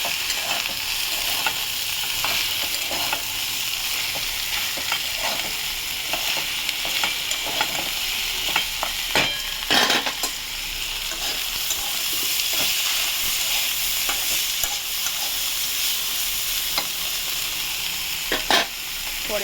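Okra and turmeric fry with a steady, close sizzling hiss in a pan on a gas stove, and a spatula scrapes and stirs in scattered clacks across the whole stretch.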